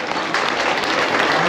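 Steady, dense applause from a crowd at a county fair livestock show, honouring exhibitors of market steers, filling the whole stretch at even strength.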